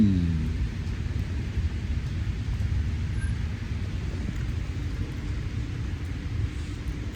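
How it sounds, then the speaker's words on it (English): Steady rain in gloomy, wet weather, a dense low rumbling wash that holds evenly throughout with faint distant thunder-like rumble underneath, no voices present. "I gotta be out in this rainy, crappy weather."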